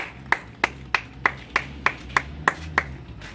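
Sharp hand claps ring out at a steady, even pace on a TV serial set, about nine in a row, loud and close against quiet background hum.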